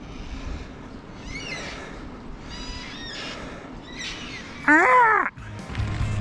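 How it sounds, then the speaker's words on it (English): Black cockatoos call repeatedly beside the Aqua River in Victoria, with harsh rising wails scattered over a windy outdoor background and one louder, closer call near the end. "How good are black cockatoos?"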